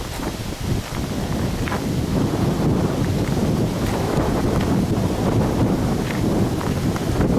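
Steady breeze buffets the microphone on a breezy September day in Glenartney, Scotland, a continuous low rushing roar with gusty swells and no voices.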